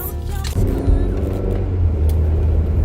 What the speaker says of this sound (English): there's a car on our quiet little street where there's never cars